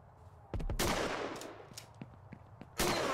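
Gunfire in a horror video game comes as a few sharp, loud bursts spaced irregularly across a quiet, echoey background, with short scattered cracks between them.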